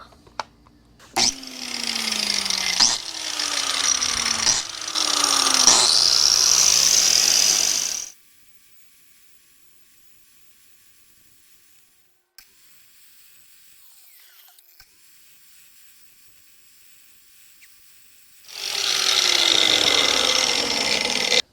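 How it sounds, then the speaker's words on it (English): Grinding on a 1974 Volvo 164e during glass repair: several loud bursts of a high whining power grinder with descending pitch, then a long near-silent pause before the grinder starts up again. "nothing but safety first when it comes to grinding and whatnot"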